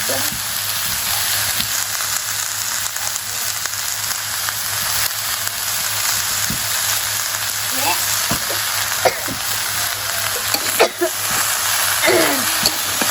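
Bottle gourd sautéing with salt, turmeric and chili in a village kitchen, a steady close sizzle and frying hiss with occasional stirring scrapes, continuous throughout with no talk.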